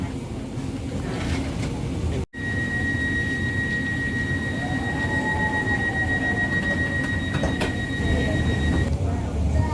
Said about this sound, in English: here's our train to Northumberland Park.